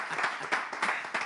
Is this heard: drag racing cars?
no